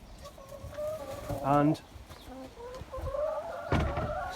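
Chickens in a backyard coop give a few soft clucks and one brief louder squawk, heard close up while a person speaks briefly nearby.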